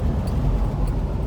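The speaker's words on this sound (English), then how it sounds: "we're taking the 1970 Nova out for a ride" A 1970 Chevrolet Nova cruises in 110-degree heat with a steady low rumble of engine and road noise, heard from inside and fairly loud throughout.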